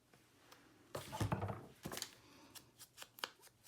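Scissors snip around a hand-cut paper circle, trimming its uneven edge; a cluster of close, crisp cuts and rustles is followed by several sharper separate snips, nearby and fairly quiet with no talking.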